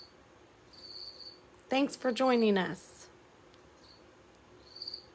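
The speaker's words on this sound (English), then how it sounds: "There we go with our crickets." Crickets chirp indoors in short, faint bursts at the start and end, with a person speaking briefly in the middle.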